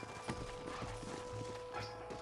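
Rhythmic clip-clop of horse hooves at a walking pace in Red Dead Redemption, fairly close, with a faint ambient hum and a soft musical tone beneath.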